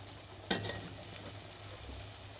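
Turmeric, chili, cumin and coriander powders fry for a mutton curry, a low, faint sizzle with an initial clatter of stirring against the pan, no voices.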